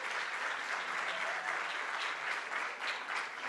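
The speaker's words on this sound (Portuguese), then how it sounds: "bata palmas agora pro Geraldo Leão" An audience at a youth pedagogy seminar claps for a guest, a dense, even wash of applause sustained from start to finish, moderately loud and a little distant.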